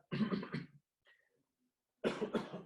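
Two bursts of coughing, close and fairly loud, separated by a short pause with faint background noise.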